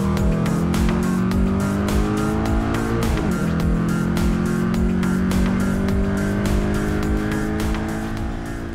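A race car on a circuit at Monterey, loud and close throughout, engine droning steadily with a clear shift in pitch around the midpoint and tire noise underneath, no talk.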